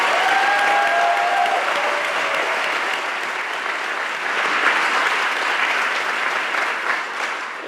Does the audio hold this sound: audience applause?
yes